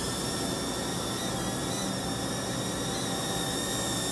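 Motors of a Neheme NH320 Skywalker drone throttling up for takeoff, a continuous high-pitched whine and whir holding steady at close range, loud and unbroken with no speech.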